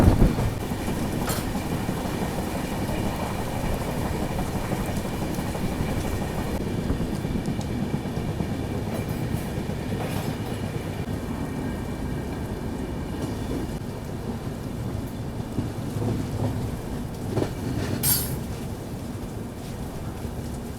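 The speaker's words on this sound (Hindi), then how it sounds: "इतनी जोर की यहाँ बारिश हो रही है ना" Heavy monsoon rain pours down during a New Delhi–Ranchi Rajdhani Express train journey, a dense, steady roar of rainfall mixed with the rumble of the moving train, continuous and close throughout with no voices.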